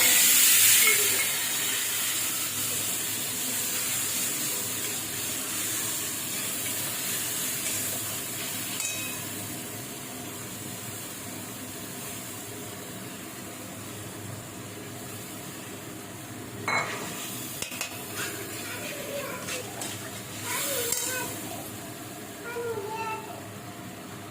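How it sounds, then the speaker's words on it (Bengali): Spice masala with turmeric, sugar, coriander and cumin being fried down with tomatoes in a pan over low gas, a soft continuous sizzle and hiss with occasional utensil clinks and scrapes later on. "মশলাটা আমি ভালো করে কষে নেবো।"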